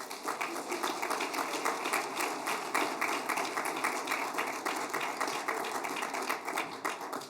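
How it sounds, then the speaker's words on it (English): A crowd at a school district board of trustees meeting gives a sustained round of applause, a dense, even patter of many hands that holds steady for seven seconds with no voices on top. "Let's have one more round of applause for our wonderful trustees"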